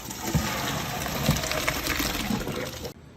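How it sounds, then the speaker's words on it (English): Cooking water pours and gushes steadily as it is drained from boiled rice for chicken biryani, a continuous splashing flow that cuts off abruptly at the end. "So now we're going to drain the water."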